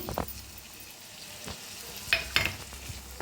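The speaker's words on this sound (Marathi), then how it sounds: "ह्याला बी भाजून घेऊया छान भाजा लागलेला आहे" Tomato-onion paste roasting in a pan for garlic methi, a quiet low sizzle with several sharp spoon scrapes and stirring clicks scattered across the moment.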